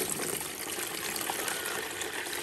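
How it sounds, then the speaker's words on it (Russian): Water pours steadily out of a heavy glass jar that held an orchid's roots, a continuous close splashing trickle lasting a few seconds with no voices. "Давайте уже сольем воду с орхидеи."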